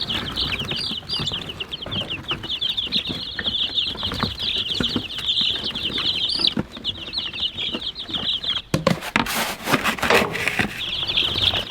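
Dozens of baby chicks on a family homestead keep up dense, continuous high chirping and peeping at close range. Soft rustling and a few wing flutters run underneath, with a burst of scuffling near the end.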